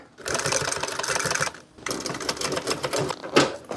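A sewing machine stitches upholstery for a 1966 Ford Galaxie car seat in two bursts of rapid, close mechanical whirring separated by a short pause.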